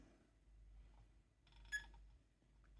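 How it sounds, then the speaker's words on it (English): A continuity tester gives a single short beep while probing traces on an Acorn A3010 motherboard under repair, faint against a low steady hum. "Beep."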